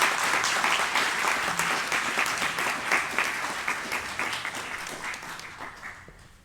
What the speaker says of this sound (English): j'aimerais vraiment un taux d'applaudissement pour lui